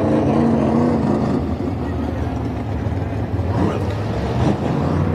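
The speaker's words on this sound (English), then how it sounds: "How good does that car sound?" A figure 8 race car at Perris Auto Speedway during a main event, its engine a loud, continuous roar that surges and fades slightly, heard from nearby with speech partly over it.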